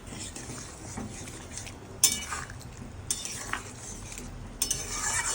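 Chana dal with potatoes being stirred in a pot, with soft scraping and clinking of a spoon against the metal in several short bursts over a low steady background.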